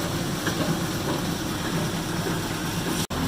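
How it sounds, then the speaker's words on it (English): A pellet mill feeder running at full feed on a variable-speed drive gives off a steady, dense mechanical roar and rattle at close range. It holds constant throughout and cuts out for an instant near the end. "This is full feed now. That is the variable speed of the feeder."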